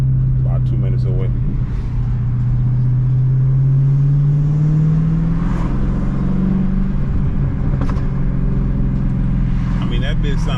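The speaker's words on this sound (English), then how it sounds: "that bit sound good with the mid tubes deleted" A Dodge Hellcat Challenger with mid tubes deleted rumbles steadily up close, its exhaust drone rising in pitch under revs, with someone talking over it.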